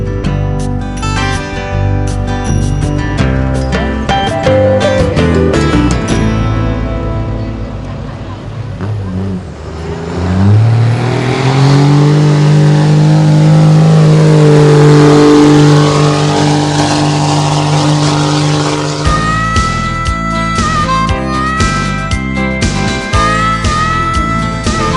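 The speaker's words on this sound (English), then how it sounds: "The sled was punishing every truck that pulled in front of it and leaving a trail of broken ones in its wake." Diesel trucks strain against a weighted sled at a truck pull, engines roaring loud and heavy, rising to a sustained high-revving bellow mid-stretch before settling into rough, choppy running again.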